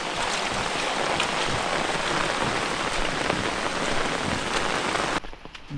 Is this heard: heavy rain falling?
yes